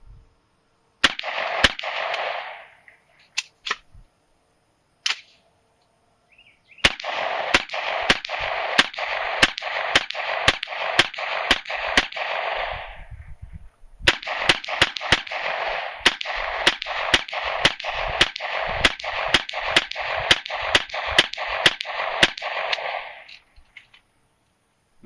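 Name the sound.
rifle gunfire, 30-round course of fire at barrier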